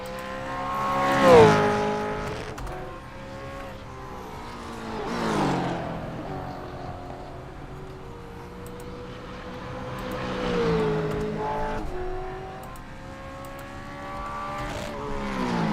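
Supercars Gen3 race cars lapping Richmond in a racing video game, several engine notes rising and falling as cars pass in waves, with high-revving whines and gear-shift dips over about sixteen seconds.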